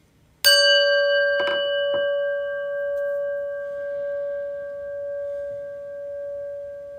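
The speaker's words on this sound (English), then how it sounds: "And the prayer bell." A prayer bell is struck once during a church meditation service, giving a clear, bright strike followed by a long, steady ringing tone that sustains and slowly wavers over several seconds, with a faint knock or two near the start.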